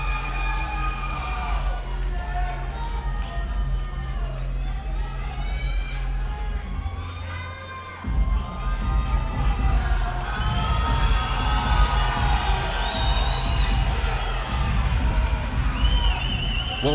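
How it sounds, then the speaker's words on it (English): Arena crowd at an amateur featherweight title fight cheers steadily with shouts and whistles, a continuous roar over booming entrance music, swelling louder midway. "Both should get quite the pop from the crowd"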